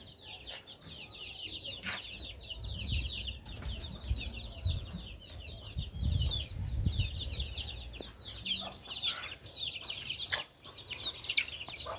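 Home-raised chickens, kept alongside ducks and chicks, cluck steadily nearby, with a busy layer of high chick peeps and an occasional wing flap throughout.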